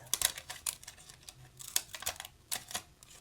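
Small scissors snip through glossy magazine paper in short, crisp cuts, an irregular series of close, sharp clicks and crunches with quiet pauses between them.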